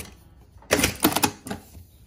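A Juki DDL-5550-7 industrial sewing machine runs in a few short bursts as it cuts tape, loud and close, with brief pauses between the rattling stitch runs.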